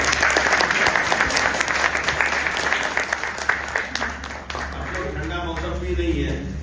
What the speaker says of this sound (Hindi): दोनों हाथ ऊपर उठा के जरा ताली बजा दें